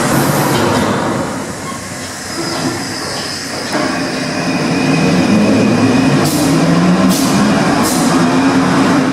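A metro train rumbles and clatters loudly as it pulls away, with steady rail noise, creaking metal and brief high squeals near the end.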